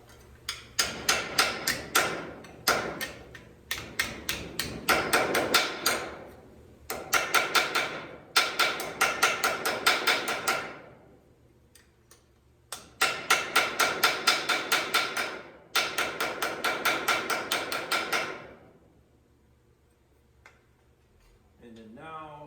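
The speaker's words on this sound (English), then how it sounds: "Then I'm gonna use the flat end to smooth it out." Flat face of a hammer striking metal to smooth a shaped piece, in rapid rhythmic bursts of ringing taps separated by brief pauses, loud and close, with no talk over the strikes.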